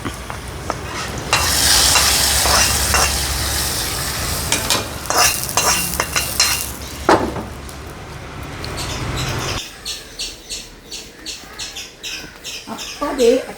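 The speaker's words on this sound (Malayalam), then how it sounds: "ഉള്ളിയൊക്കെ മൊരിയിച്ച് ഇത്തിരി വേപ്പിൻ്റെ ഇലയൊക്കെ ഇട്ട് നമ്മുടെ കുമ്പളങ്ങ ചിക്കനിലേക്ക് അങ്ങോട്ട് നമുക്ക് ഒഴിച്ചു കൊടുക്കാം" Fried onion and neem leaves stirred into an ash gourd chicken curry, a loud steady sizzle with scraping spoon strokes, then the frying quiets into intermittent clatter and stirring.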